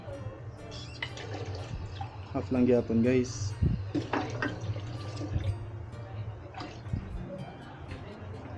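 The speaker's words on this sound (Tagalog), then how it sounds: "Dugangan ako siya og tubig, half lang gyapon" Water splashes into a cooking pot of pork that is being simmered down, heard partly beneath a person speaking throughout.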